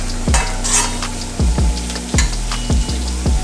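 Vegetables sweat in a pot for a Jamaican beef kidney stew, a steady sizzle under a loud, repeated scrape of a spoon stirring against the pot bottom, about five strokes in quick rhythm.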